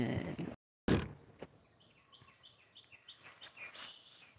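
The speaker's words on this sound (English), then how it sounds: "all the birds chirping and shit." Birds chirp outdoors on a dreary day in Florida, a run of short repeated high tweets that sound fairly distant, following a brief rustle and clunk near the start.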